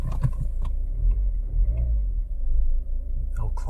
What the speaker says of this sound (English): Old clattery old oil burner.